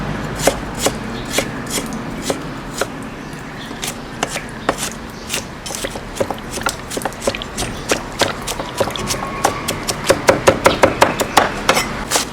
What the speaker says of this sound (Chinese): 这个蒜姜啊，我们都要切成末，一起切得了。